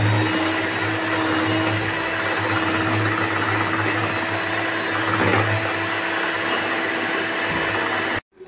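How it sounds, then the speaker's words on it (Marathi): Electric mixer whipping sweetened whipping cream for homemade mango ice cream, a loud, steady motorized whir running without pause for about eight seconds before cutting off abruptly at the end. "तुम्ही बघू शकता मी व्हिपिंग क्रीम फेटून घेत आहे।"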